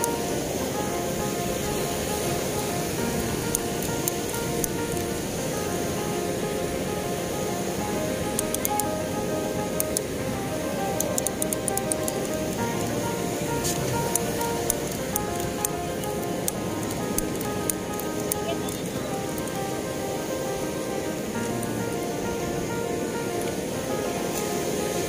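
Pacific Ocean surf rolls in at Bagasbas beach in Daet, Camarines Norte, a known surfing spot, as a constant broad wash of breaking waves with faint scattered higher clicks on top.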